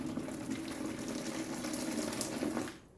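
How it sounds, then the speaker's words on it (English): Water poured steadily into a bucket holding crystals, a continuous rushing, splashing fill that runs for a few seconds and then tapers off, close by with no talk. "I'm going to add some water, and we'll see"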